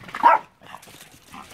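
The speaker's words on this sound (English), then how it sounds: "That's the dog." A dog barks once loudly up close, then gives a few softer yips and whimpers, outdoors beside an 18 foot utility trailer being rescued.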